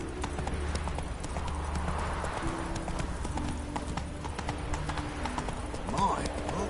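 Hooves of the horse Roach pound in a steady clip-clop gallop within a monster-slaying video game, close and continuous, with music and battle sounds beneath and a brief voice near the end.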